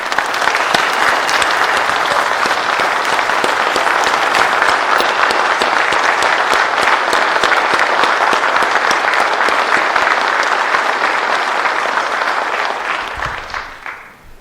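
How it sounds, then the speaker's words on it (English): A lodge audience at an officers' installation gives a long, dense round of applause, loud and steady for about thirteen seconds before fading out. "I think we owe our ladies another big round of applause for what they do for us"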